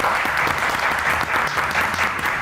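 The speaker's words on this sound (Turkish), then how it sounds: "O zaman alkışlarla Arife Hanım'ı çağırıyoruz efendim." A studio audience claps steadily and loudly for a contestant being welcomed on a Turkish cooking competition show, a dense unbroken wash of applause.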